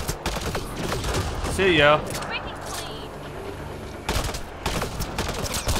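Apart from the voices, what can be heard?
shotgun gunfire in video game Mass Effect Andromeda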